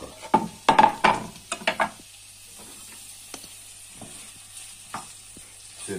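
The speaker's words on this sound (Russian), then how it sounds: "Все это на тихом огне, начнем жарить." Onion and ham sizzling in a pan over low heat, with a cluster of sharp stirring clatters and crackles early on, then a quieter, steady low fizz with occasional scrapes.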